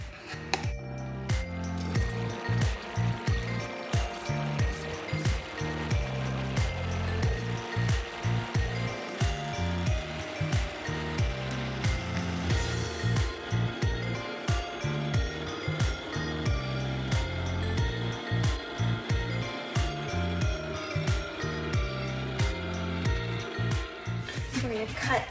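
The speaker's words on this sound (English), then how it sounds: "We're gonna blend this for our sauce, using potatoes to keep the fat content low." A Vitamix blender whirs through a potato-based sauce with about half a cup of water added, a loud continuous motor drone with rhythmic churning and clinking pulses that runs unbroken for the whole stretch.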